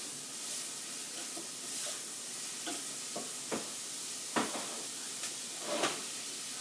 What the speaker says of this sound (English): Now we're going to get those all sauteed.